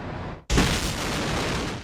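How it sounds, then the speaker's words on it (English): A test blast of a volatile explosive substance, set off by American scientists studying terrorist bombs: a brief hiss, then one sudden loud detonation that gives way to a sustained, dense roaring rumble. "This is a test explosion set off by American scientists who are trying to outfox terrorists and the bombs they make."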